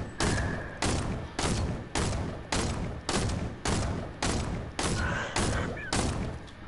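Rapid regular gunfire in a video game: about ten heavy booming shots roughly two-thirds of a second apart, each with a short decaying tail, loud and close, with no talk.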